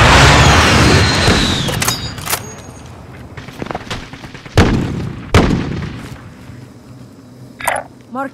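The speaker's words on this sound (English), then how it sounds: "Friendly precision airstrike is there." Friendly precision airstrike explosions in Call of Duty: Warzone Resurgence: a loud rumbling blast opens the clip, followed by sharp, separate booms and cracks spread over several seconds, with mechanical rattles in between.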